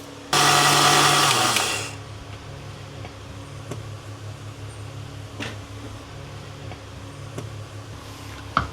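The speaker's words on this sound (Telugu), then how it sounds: "ఆవాలు మిక్సీ పట్టుకుందాం" An electric mixer grinder whirs loudly as it grinds cumin, fenugreek and mustard seeds in a short, harsh burst of about a second and a half, then cuts off to quiet room tone with faint clicks.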